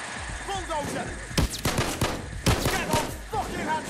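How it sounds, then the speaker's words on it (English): Shotgun blasts in Payday 2, a few sharp loud shots spaced apart amid busy gameplay noise, with voices talking throughout. "So this shotgun's pretty awesome"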